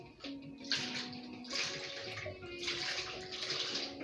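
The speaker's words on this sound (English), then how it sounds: "So I want to clean my hands before we start the demonstration." Tap water runs steadily into a kitchen sink while hands are washed under it before baking butter cookies, a close, continuous splashing rush with small changes as the hands move through the stream.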